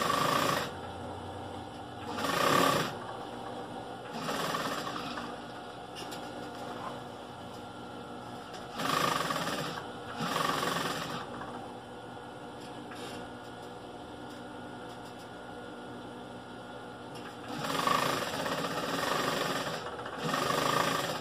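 A sewing machine stitches bias binding onto the edge of a rug, its motor running in steady bursts of a few seconds each, with quieter pauses between runs and no talking.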